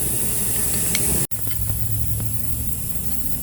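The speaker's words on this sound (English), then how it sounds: "There's liquid coming out of that brake caliper." Liquid spraying from the brake caliper line of a barn-find Honda CB750, a steady close hiss that stops abruptly for an instant, then carries on more faintly. No talking is heard.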